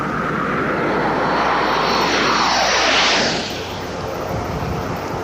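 A commercial jet airliner passes overhead during a diving display pass, its loud, broad engine roar rising to a peak, sweeping down in pitch as it goes by, then easing off. No voices.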